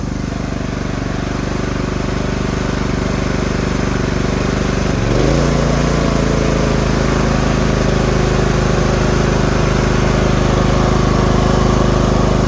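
An Efurden 4000 watt inverter generator running loud and close, a dense steady engine drone that shifts pitch slightly partway through as the load changes, then holds steady without any talk.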